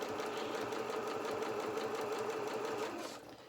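A sewing machine runs steadily and close, stitching around the curves of felt doll legs with a fast, even mechanical buzz that slows and stops near the end.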